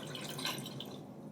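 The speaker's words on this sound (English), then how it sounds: "So we're about to add the liquid. We have 6 cups of chicken broth." Chicken broth poured into a soup pot, a brief close splashing and dripping stream of liquid lasting about a second.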